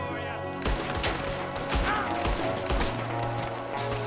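Shots crack back and forth in a Red Dead Redemption 2 shootout, a dense run of gunfire with several punchy reports over steady in-game noise.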